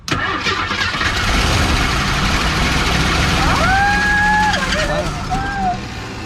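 An old AMC Pacer engine, fed bad gas, cranks and catches, then runs with a loud, rough mid-pitched rumble close by. People talk over it, and a rising whine sounds partway through.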